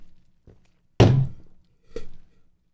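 A drink set down hard on a table makes one loud, close thunk, framed by a soft tap just before and a smaller knock just after, with no talking.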